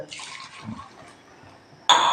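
Water running into a pot at home, a soft steady splash and hiss, quieting in the middle, then a sudden louder gush of pouring water bursting in near the end.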